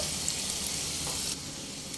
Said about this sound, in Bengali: মিডিয়াম ফ্লেমে দুই থেকে তিন মিনিট পেঁয়াজগুলোকে একটু ভাজা ভাজা হতে দেব